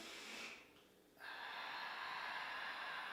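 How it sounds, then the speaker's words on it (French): A single audible breath is drawn in during a Pilates exercise, a soft airy inhale heard close up against a quiet hiss, with no talking. "On inspire."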